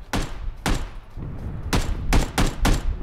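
Bursts of PUBG gunfire crack out in quick clusters, loud and close, with short pauses between volleys.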